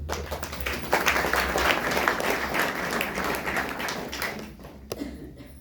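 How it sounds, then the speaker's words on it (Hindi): An audience at a Hindi spiritual talk claps together in a burst of close, busy applause that holds steady for several seconds before tapering off near the end. "ताली बजाओ।"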